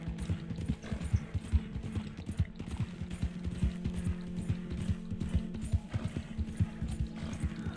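Horse hooves clip-clop in a steady, repeating rhythm while a horse travels in Red Dead Redemption 2, with faint mechanical ratcheting and gear-like clicks layered underneath, all at a moderate, even level with no talking.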